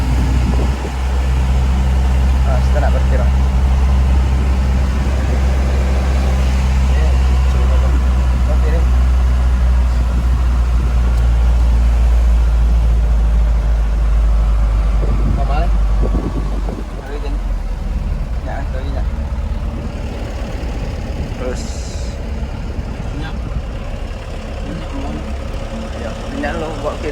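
A Mitsubishi Canter HD truck's diesel engine idles loudly and steadily while the truck parks, a deep constant rumble heard from inside the cab as people talk over it.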